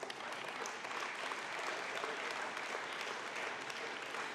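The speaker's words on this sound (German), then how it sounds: "Applaus" Steady, sustained applause from a party conference audience, a dense even wash of many hands clapping without letup, with no voices rising above it.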